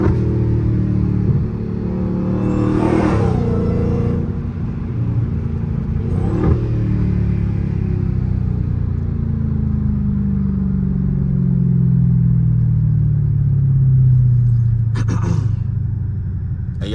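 A tuned Dodge Hellcat accelerates hard with its wheels spinning in third gear, a loud rumbling engine whose pitch climbs steadily, heard from inside the car, with a couple of brief clatters and no talking.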